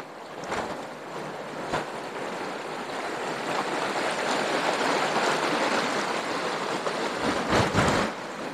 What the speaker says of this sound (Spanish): Vean, miren, el río Santiago aquí